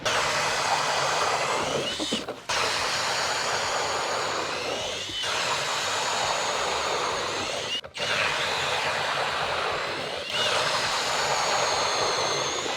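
Eskimo Pistol Bit 2.0 auger, 8-inch version, drilling through first ice in northern Wisconsin: a loud, steady high-pitched whir and grind that runs continuously, broken by brief pauses about every two to three seconds.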